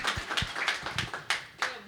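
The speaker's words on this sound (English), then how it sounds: "Round of applause, please." Applause from a small audience at a Detroit morning event, thin and faint with individual hand claps clearly separated across about two seconds.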